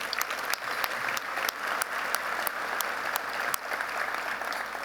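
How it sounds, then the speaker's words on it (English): Audience applause at a chamber of commerce annual meeting, steady dense clapping from a large crowd in a hall, fairly loud and sustained throughout with a few sharper individual claps standing out. "Please give them a round of applause for that."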